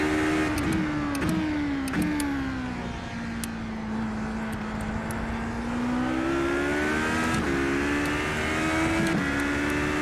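An iRacing race car runs at Daytona with a loud, close engine whine that climbs and dips through gear changes, punctuated by sharp shift clicks, with no talking.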